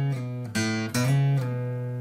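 Guitar lead line from a song: a few sustained notes with a double slide up and back down, close and clear with no voice over it.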